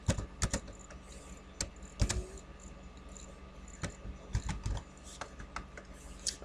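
Typing a name on a computer keyboard while working in MS Word: a short burst of close, crisp key clicks in an uneven rhythm, alone with no talk.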